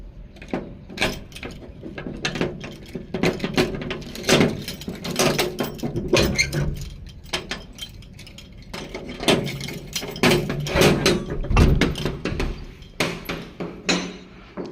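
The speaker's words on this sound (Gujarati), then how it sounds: "હવે આપણે લોક ખોલીશું" An office door lock being worked open, a close series of sharp metallic clicks, clunks and rattles in irregular bursts, with short pauses between, with no voices.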